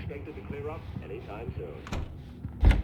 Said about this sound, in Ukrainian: Ще двері закрились.